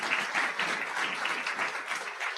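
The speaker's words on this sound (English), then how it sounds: "So if you could please give them a round of applause." An audience claps together at a convocation ceremony, a dense, steady wash of applause that holds evenly throughout with no voices rising above it.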